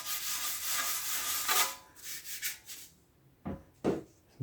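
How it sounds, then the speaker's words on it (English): An item is scrubbed with lemon cleaning paste, a soft rubbing hiss that runs steadily for about a second and a half, then breaks into quieter, uneven strokes and a few short distinct scrubs, close by. "you have to scrub the item. Don't scrub it too hard."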